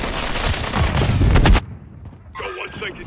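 Dense bursts of rapid automatic gunfire and explosions crackle loudly in a video game shootout, then cut off abruptly and leave quieter game sounds with a brief voice.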